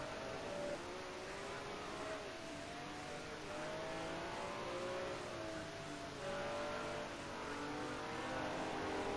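A BMW M1 Procar race car at Fuji in a racing video game, its engine revving and shifting in rising and falling tones, faint and steady throughout, with no voices.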